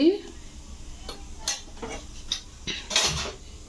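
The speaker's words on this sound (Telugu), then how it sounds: "ఇవి బాగా ఫ్రై అవ్వాలి. ఫ్రై అయ్యేదాకా వేయించుకుందాము." Chana dal, urad dal, mustard seeds and cumin fry in a pan with a light sizzle under clinks and scrapes of a spoon stirring against the metal, in short irregular bursts.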